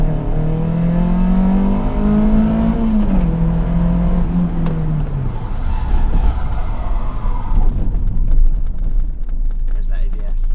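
A Renault Clio 182 on the road, its engine hum steady and then dropping in pitch as the car slows and pulls over, with a voice talking over it and road noise continuing.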